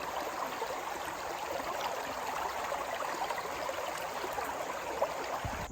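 Clear mountain stream water flows and trickles near a waterfall, a steady close babble of running water with no voices.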